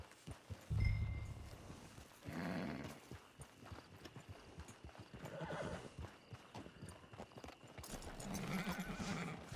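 Video game horse hooves clip-clop at a walking pace in Red Dead Redemption 2, with a horse neighing and snorting up close, the steps fading in and out in uneven bursts.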